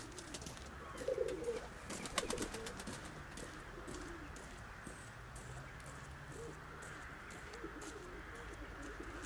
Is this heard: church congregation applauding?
no